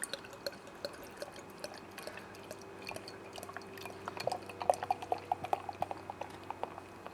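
Bath Ales Gem beer poured from its bottle into a glass, a faint, quiet trickle with scattered small drips and fizzing pops growing busier toward the end, no talk.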